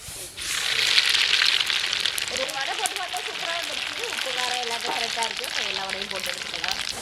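Mustard seeds crackle and pop in hot oil in a pan while making sambar tempering, a dense steady sizzle with rapid spluttering throughout as a voice talks over it.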